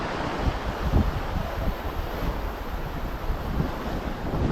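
Strong wind roars at a rocky seaside fishing spot in the early morning, a constant, loud, broadband rush with low buffeting gusts against the microphone and surf mixed in, no voices.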